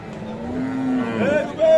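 A Holstein Friesian dairy cow with its calf at a cattle market gives one close, loud, drawn-out moo that rises in pitch at the end.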